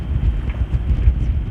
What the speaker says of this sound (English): It's rather windy.